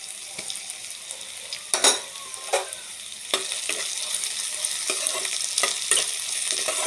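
Onions frying in a pan for pork curry sizzle steadily while a utensil scrapes and stirs them in repeated sharp strokes, close up and without talk, the sizzle growing louder toward the end.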